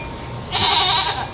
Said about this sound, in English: We got baby goats in the background.